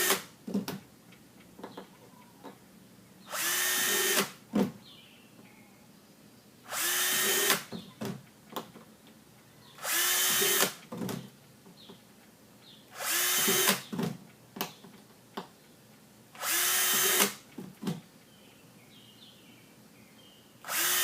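Power drill boring holes with a 1/16 inch bit, six separate bursts of high whirring a couple of seconds long at regular intervals, with quiet clicks and handling noises in between.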